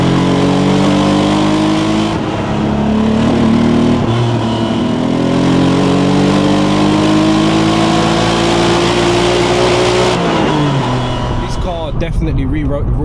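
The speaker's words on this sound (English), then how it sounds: "look at that, singing. Naturally aspirated V6." A 1991 Honda NSX with a naturally aspirated VTEC V6 sings as it climbs through the revs, the note rising in pitch, easing briefly, then rising again before dropping off, heard from inside with road noise.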